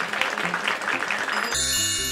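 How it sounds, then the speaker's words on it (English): Hands clap together for Tinker Bell in a quick, steady run of bright pats for about a second and a half, then music takes over. "if you believe in fairies all together, I need you to clap your hands."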